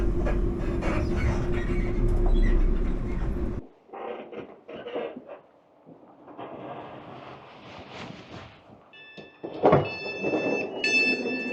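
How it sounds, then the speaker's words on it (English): A short Scottish train journey heading into Helensburgh: a loud rumbling carriage ride cuts off sharply, followed by quieter interior rattles, door and carriage noises, and a few bright tonal chimes or beeps near the end. "So let's get back to that wee train journey."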